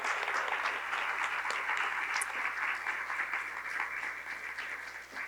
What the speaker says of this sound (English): please offer applause to both candidates for their willingness to answer all of your questions tonight